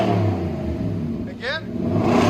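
A Nissan Titan with a 5.6L V8 and Cherry Bomb Extreme exhaust holds a steady, loud idle rumble. A brief rev swell comes near the middle, with background chatter throughout.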